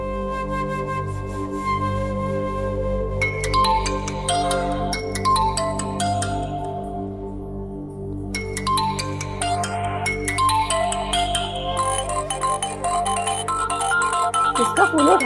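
A phone rings again and again in a home, a loud, bright electronic ringtone repeating in bursts with short pauses between them, heard alone and close.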